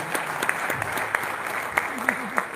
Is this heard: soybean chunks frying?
no